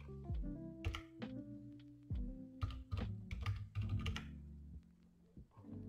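Keys clack on a computer keyboard as a password is entered, coming in quick irregular bursts of close, quiet taps with short gaps between them.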